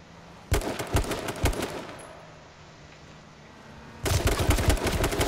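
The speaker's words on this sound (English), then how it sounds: "Shooting at me from different angles" Rapid bursts of automatic gunfire in the survival shooter H1Z1 crackle close and loud, two sharp volleys separated by a quieter lull before a sustained barrage resumes.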